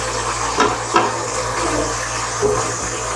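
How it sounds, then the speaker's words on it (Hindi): Water poured into a pan of chutney salan, a close, steady gushing pour with a few louder splashes along the way. "थोड़ा पानी डालेंगे।"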